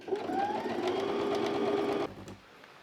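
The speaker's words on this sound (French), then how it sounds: "je vais aller piquer à la machine cette valeur tout le long du milieu devant" A sewing machine stitches a seam down the front of a garment in a fast, even whir for about two seconds, then stops abruptly, leaving faint room noise.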